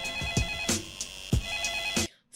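A telephone rings loudly and steadily in repeated electronic trill bursts at an even rhythm, with no voices, and cuts off abruptly near the end.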